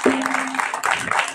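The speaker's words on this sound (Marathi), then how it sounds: "जोरदार एकदा टाळ्या पार्थ दादांसाठी" Audience applause breaks out for Parth Dada at a Mahanubhav lecture-series gathering in Wambori. The clapping is dense and continuous for over a second, with a steady tone running underneath at the start.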